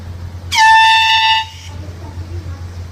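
One loud, blaring air horn blast rings out for about a second, then cuts off, leaving a quiet low hum.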